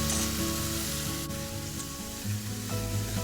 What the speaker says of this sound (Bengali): ভালো করে মাছের তেলটাকে ভেজে নিতে হবে যাতে আঁশটানি গন্ধটা চলে যায়